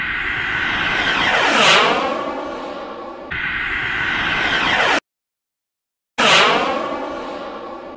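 F-16 fighter jets flying a tight perimeter pattern and landing, each pass a loud roaring jet sweep that rises and falls with a Doppler shift as it goes by, with a brief silent gap between passes.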